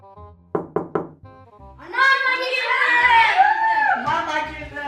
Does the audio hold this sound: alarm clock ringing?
no